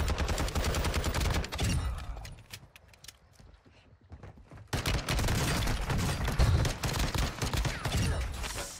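Dense, rapid gunfire in Warzone 2 with an assault rifle, sustained bursts that dip briefly in the middle before loud firing resumes and continues to the end.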